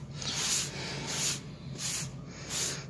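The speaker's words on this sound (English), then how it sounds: "just spray a little bit more on here." Folex carpet spot remover sprayed onto a coffee stain on carpet, five close, evenly spaced hissing trigger-spray bursts in a steady rhythm.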